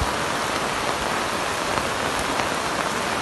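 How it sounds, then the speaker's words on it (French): Heavy rain showers pour down steadily in south-west Cameroon, a dense, unbroken hiss of water hitting surfaces that stays loud and even throughout with no voices. "Des averses qui tombent depuis dimanche et qui provoquent au passage des inondations spectaculaires"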